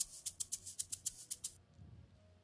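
Amapiano shaker sample from a beat for a track, about ten crisp, bright shakes in a steady quick rhythm, close and alone, stopping abruptly after a second and a half.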